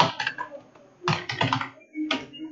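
Quick bursts of typing on a computer keyboard while a hotel booking form is filled in, clustered keystrokes in three short runs separated by brief pauses, close and clear.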